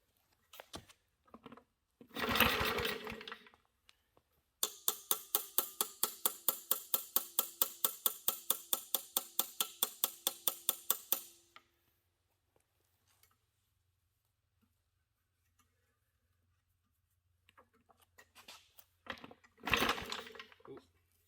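Repeated yanks on the pull cord of a 1950s Wards lawn mower that refuses to start, a fast rattling burst of about seven seconds with shorter pulls before and after, heard up close.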